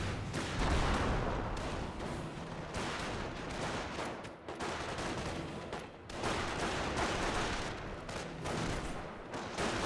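Machine gun fire in the World War II strategy game Company of Heroes, with a .50 cal among the guns, sustained distant bursts and crackling gunfire rolling on for ten seconds alongside other battle noise, without talking.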